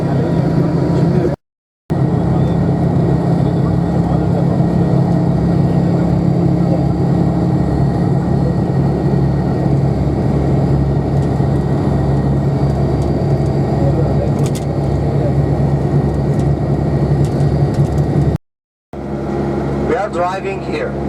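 A car drives on the road toward Dahab in Sinai, its steady engine and road rumble droning loud and constant from inside the cabin, broken by two brief dropouts.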